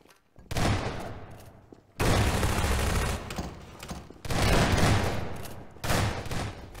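Gunfire in a Garry's Mod prop hunt game comes in three long sustained bursts separated by short gaps, loud and dense, with no talking over it.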